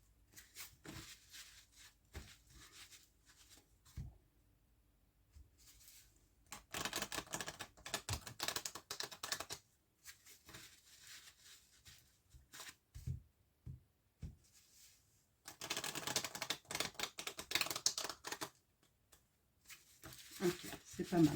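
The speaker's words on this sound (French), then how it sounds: "Je vais bien brasser les cartes, bien les mélanger avant." Tarot cards being shuffled and mixed by hand, heard as two long bursts of dense, crisp papery riffling and flicking, close and fairly loud, with scattered softer card taps and handling between them.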